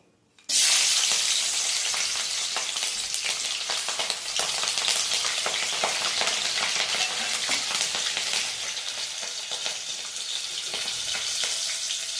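Dried chillies and spices hit very hot oil all at once, setting off a loud, dense crackling sizzle that starts abruptly and holds steady, close up, while rice-flour ukad is being made.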